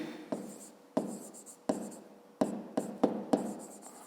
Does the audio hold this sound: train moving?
no